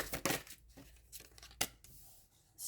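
Tarot cards being shuffled by hand, sounding as close, quiet bursts of riffling and papery rustles in short irregular clusters with soft pauses between them.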